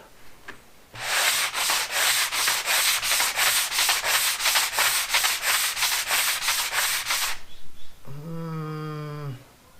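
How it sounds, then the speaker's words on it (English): Sanding of a round wooden top for a wine barrel bar gives a loud, rhythmic rasping of repeated back-and-forth strokes for about seven seconds, then a short buzzing tone follows. "I've got to sand it down a little bit, so I guess I'll get started"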